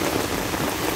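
Heavy rain in Hong Kong, a dense, steady hiss of downpour pattering on surfaces close by, with no talk.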